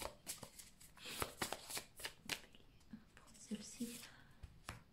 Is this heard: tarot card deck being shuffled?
yes